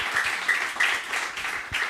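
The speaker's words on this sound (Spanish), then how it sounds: "Un aplauso" Audience applause at a Spanish book presentation and talk, a dense wash of clapping from a room of listeners that holds steady for a couple of seconds, with a few louder claps standing out.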